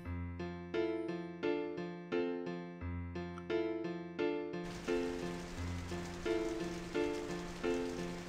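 Steady rain hiss from a Final Fantasy VIII game scene rises midway through and continues under a gentle melodic music track.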